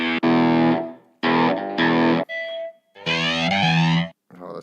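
A distorted effects unit preset on a workbench, heard as loud, harsh, chorus-laden tones in several bursts with short gaps, including a thin sustained note, all up close.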